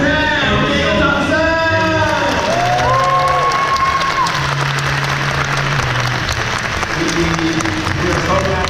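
Fans at a Taiwan meet-and-greet for motorcycle racer Maverick Viñales applauding and cheering, loud sustained clapping and crowd noise with voices calling and talking over it.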